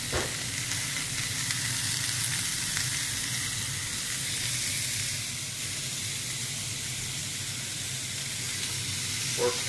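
Steady, close sizzling of meat frying in a hot pan, a continuous crackling hiss with no one talking.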